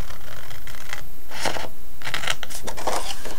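Scissors snip through material in a few close, crisp cuts, with short pauses between the separate bursts.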